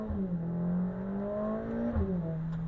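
A 2024 Mercedes-AMG A45S hot hatch in Sport Plus mode revs its engine, a sustained, rising and falling drone with a pitch climb near the end, close and fairly loud with no talk over it.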